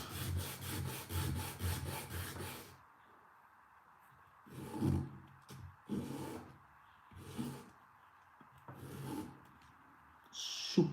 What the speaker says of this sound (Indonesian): Kemudian kita amplas.